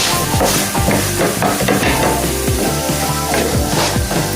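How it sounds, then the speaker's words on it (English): A wooden spoon scrapes scrambled egg stuck to the bottom of a pot, a loud, close scraping and stirring with repeated strokes over a sizzling, frying background. "So the egg that's sticking in the bottom of the pot, you just scrape it off."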